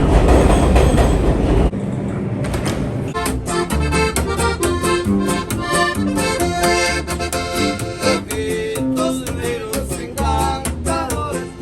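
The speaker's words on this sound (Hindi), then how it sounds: "पहले तो मैंने ट्रेन ली है क्योंकि हम न्यूयॉर्क सिटी में रहते हैं तो सबवे लेते रहते हैं।" A New York City subway train riding along the tracks, loud and close from inside the car, with continuous rumbling, rhythmic wheel clatter and metallic screeching tones throughout.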